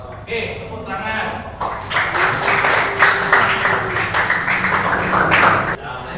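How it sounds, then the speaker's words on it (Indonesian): Students in a classroom applaud during a teaching performance session, the clapping loud and close for several seconds, with a clattery edge and voices mixed in before it stops abruptly near the end. "Oke, tepuk tangan."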